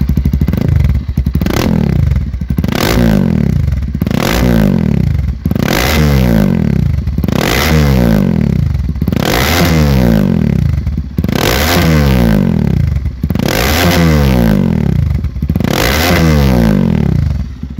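A Kawasaki KLX 230R dirt bike engine revs again and again in sharp, rasping bursts through a loud Takagami Greentech Edition aftermarket exhaust, each climbing then dropping back to idle, very close.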